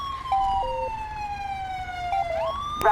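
An ambulance siren in the GTA 5 video game with a British police mod wails continuously, its tone sliding and stepping through pitch changes, loud and alone without speech.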